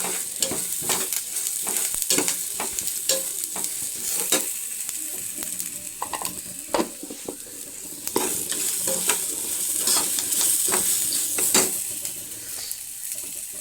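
Rice-flour snack batter made from ration rice frying in oil on a low flame until brown, a loud continuous sizzle with repeated sharp stirring scrapes and spatters, close up and without speech.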